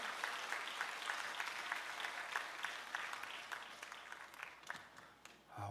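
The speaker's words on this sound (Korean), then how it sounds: "우리 장동태 목사님께 큰 박수로 격려하도록 하겠습니다" A church congregation applauds a pastor after his testimony and song, a steady wash of many hands clapping that sounds faint and distant and holds evenly throughout.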